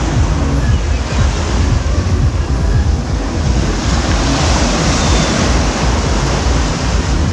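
Sea waves on Anjuna Beach in Goa, a loud, continuous roar of surf with wind buffeting the microphone throughout, close by and with no voices.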